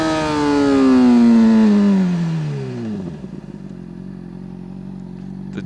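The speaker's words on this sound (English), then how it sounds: "The downshift." Motorcycle engine downshifting, a loud close wail that drops steadily in pitch over a few seconds and settles into a lower idle-like drone.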